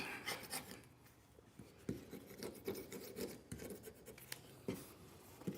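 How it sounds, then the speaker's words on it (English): A plastic scraper works across the ceiling of a Ford Transit low-roof van, making quiet rasping and scratching strokes in an uneven rhythm, close and faint, with no talking. "I'm using a plastic scraper for the ceiling here."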